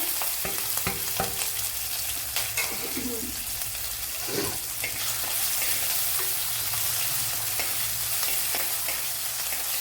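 Crushed ingredients hitting hot coconut oil with popped mustard seeds in a pan for a fish curry, giving a steady, close sizzle and crackle with scattered stirring clatter throughout.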